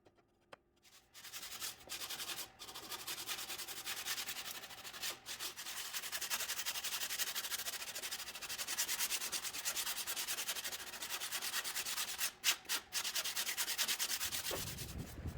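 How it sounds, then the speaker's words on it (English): Filler skimmed over a plywood edge is sanded smooth with a steady, close, abrasive rasp that runs almost without a break, interrupted only by a few brief pauses. "I'm going to mix up some filler, skim coat the edge to hide the plies, then sand everything down smooth"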